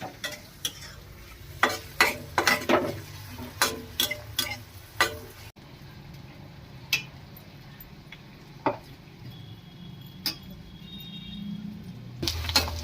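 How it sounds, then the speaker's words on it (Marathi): Onion sautéing in oil with cumin and mustard seeds, a low sizzle under repeated sharp spatula taps and scrapes against the pan, close, with the stirring thinning out midway and no voices. "चांगला लालसर कांदा परतून घ्यायचा"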